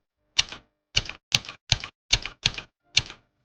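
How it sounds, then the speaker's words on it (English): Typewriter keys strike in a busy office, with seven distinct sharp clacks arriving in an uneven rhythm and spaced by short silences. The strikes are crisp and close, and the room is otherwise quiet. "The sound of typewriters fell like rain."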